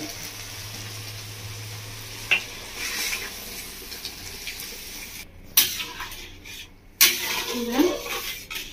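Boiled potatoes and peas tip into a pan of sizzling chicken masala for village-style chicken ghugni: a close, steady sizzle broken by a few sharp splashing, clattering bursts as the vegetables go in.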